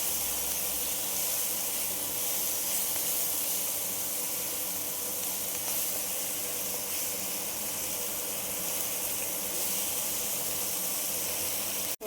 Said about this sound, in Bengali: এবার এই মশলার সঙ্গে এই সবজিগুলো ভাজা ভাজা করে নেব।